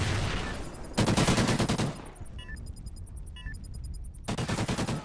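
Automatic gunfire in Call of Duty: Ghosts, multiplayer bomb mode, comes in two loud sustained bursts of rapid shots. A third burst starts near the end, with quieter game noise and faint beeps between them.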